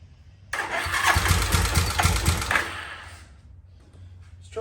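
An abandoned motorcycle engine cranks and sputters, catching for about three seconds of rough, loud running before dying away to quiet, heard up close with no talk.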